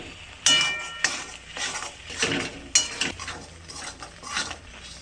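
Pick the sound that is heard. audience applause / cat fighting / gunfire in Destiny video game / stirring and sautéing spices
stirring and sautéing spices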